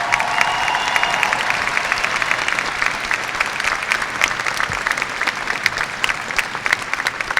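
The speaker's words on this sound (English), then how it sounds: "Tiger teachers and staff, let's give them a round of applause." Graduation audience at a high school ceremony applauds teachers and staff, a dense, steady wash of clapping with scattered sharp claps and light cheering throughout, fairly close and loud, with no talking over it.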